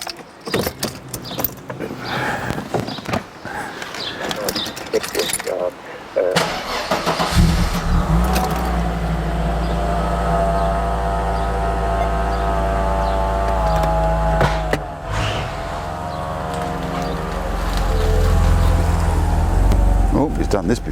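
A Mercedes W124 Cabriolet manoeuvring back and forth, its engine starting up after some handling noises and then idling and revving steadily nearby, rising and falling as the car shifts direction.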